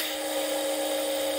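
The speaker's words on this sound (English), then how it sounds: "so it's nice and accurate on the pillar drill" A pillar drill boring holes through very thick steel: a steady, high whining grind that holds constant and loud for the whole moment, with no talk over it.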